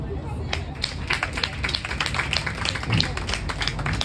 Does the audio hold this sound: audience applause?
yes